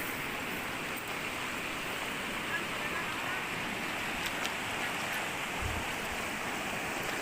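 Stream water flows at a campsite near Ciwidey in Gambung, a steady broadband rushing wash that holds constant throughout, close and moderately loud.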